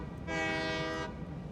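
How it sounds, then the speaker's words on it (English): A train running on its track in the video game Satisfactory, a low steady rumble with a loud horn-like tone that sounds for about a second in the middle. "Sounds like a train"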